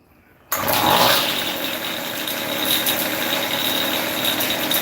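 A small engine run off choke starts up after a brief quiet moment and keeps up a steady, loud broadband roar with slight swells in level, close to the listener, with no voices.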